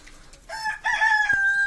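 A rooster crows once in a drawn-out call among a backyard flock, near and clear against a quiet background with faint clucking before it.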